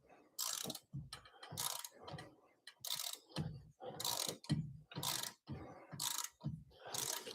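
A grimy bolt is worked loose and backed out of a Nissan Altima brake caliper slider pin, giving repeated ratcheting mechanical clicks in steady bursts, close and moderately loud, with no talk.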